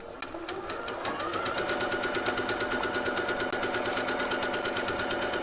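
Sewing machine stitching the center front seam of a dress, a fast steady mechanical chatter of the needle running continuously at close range after a brief start.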